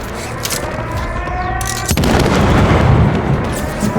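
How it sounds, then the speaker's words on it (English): A heavy explosion erupts in the Modern Warfare 3 combat mission, a deep boom that rolls into a dense, sustained rumble, with gunfire and battle sounds in the mix before it. "The explosion got Connie's attention."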